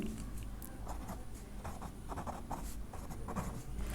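Pen or chalk writing out a Class 10 math exercise on a board or paper: steady scratchy strokes in short bursts, close and continuous, with no voice.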